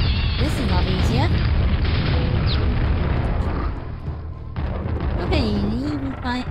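Explosions and weapon fire boom through a fast Quake Champions match, deep blasts and bursts stacked close together, with voices talking over the game action.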